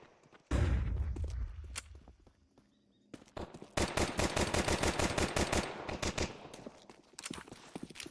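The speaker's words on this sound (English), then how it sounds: "Throwing the flashbang." In a first-person shooter game, a sudden loud blast from a thrown flashbang is followed after a short lull by sustained rapid bursts of gunfire, close and dominant, with scattered later shots.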